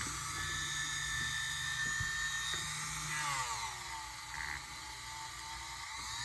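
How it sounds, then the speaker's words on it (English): Dremel rotary tool buffing a sterling silver ring with polishing compound, a steady high whine that dips in pitch midway as the tool loads, with no talking. "So we just want to get in there, get a good amount on our Dremel."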